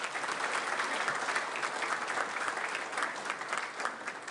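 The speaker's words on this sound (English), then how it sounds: "Let's give another round of applause to our civic event supporters." Sustained clapping from a lunch audience at a city business appreciation event, dense and even at a moderate level with no break.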